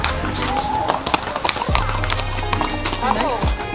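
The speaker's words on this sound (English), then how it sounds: "we found the horses" Real horses at a trail-ride stop in the countryside, with hooves clopping and scuffing on the ground, short snorts and movement nearby, heard under people talking.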